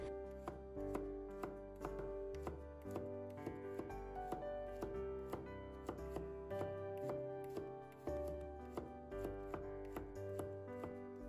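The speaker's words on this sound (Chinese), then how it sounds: "接下来我们准备1把大蒜，先把它切片" A knife slices garlic cloves on a cutting board in a home kitchen, in a regular series of crisp chopping taps, close and steady, under continuous background music with no speech.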